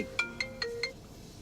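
A phone ringtone plays four quick bright electronic chimes in an even rhythm, close and clear, then cuts off, with no voices.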